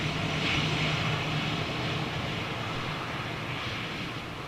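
An Airbus A319 jet with CFM56 engines passes at a distance, a faint, steady engine roar that slowly eases off, with no talk over it.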